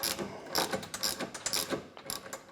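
A hand ratchet clicks in quick, repeated bursts while tightening a locking nut on a Seizmik bed extender for a Pioneer 1000 UTV, close and fairly loud, with no talking.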